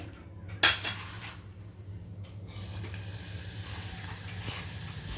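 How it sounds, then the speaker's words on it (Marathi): Vermicelli dropped into hot ghee for a sweet kheer sets off a sharp clatter and sudden burst of sizzling, then a steady hiss over a constant low hum. "आता बघू तूप मस्तपैकी गरम झालेलं आहे आता ह्याच्यात टाकते मी शेवया"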